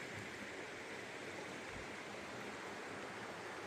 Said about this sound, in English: Plenty of fresh flowing water just down the hill.